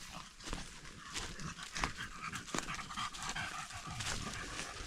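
Several dogs pant hard and steadily close by on an outing in the woods, with occasional faint whimpers and rustling mixed into the breathing, and no talking.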